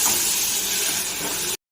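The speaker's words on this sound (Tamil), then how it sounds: "தக்காளி சேர்த்து நல்லா குழையிற அளவுக்கு நல்லா வதக்கிக்கலாம்" Tomatoes sautéing in a hot pan for prawn gravy, a steady close hiss and sizzle lasting about a second and a half before cutting off abruptly.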